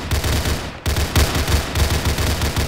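Sustained automatic gunfire in a military shooter video game, rapid rhythmic bursts of loud shots with brief breaks, dense and continuous throughout.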